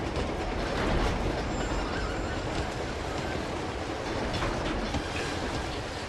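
A train rolls along in Uncharted 2, a continuous rumbling roar with rhythmic wheel clatter and faint metallic squeals, loud and close throughout with no speech.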